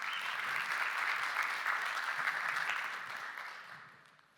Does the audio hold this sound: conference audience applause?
yes